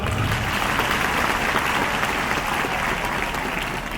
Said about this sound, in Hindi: सभी अतिथियों का एक बार जोरदार तालियों से स्वागत।